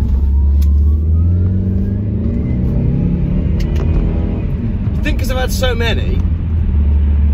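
A Saab 9-5 Aero cruises on a road trip toward the Elan Valley, its engine and road noise a constant deep rumble heard from inside the cabin while someone talks over it throughout.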